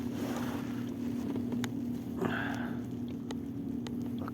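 A motorboat passing on a river channel, a low steady engine drone heard from a distance under wind rumble, with a few sharp clicks and a brief splashy swell midway; no talking.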